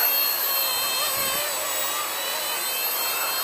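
A small Esky F150X RC helicopter hovers nearby with a steady, high-pitched electric whine and whirring rotor, holding fairly constant throughout.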